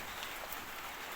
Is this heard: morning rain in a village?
yes